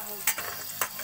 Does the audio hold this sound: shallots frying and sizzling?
yes